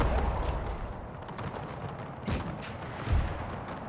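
Napoleonic-era artillery cannons boom in a battle game, a dense rumbling barrage with heavy low blasts and one sharp nearer shot amid continuous battle noise.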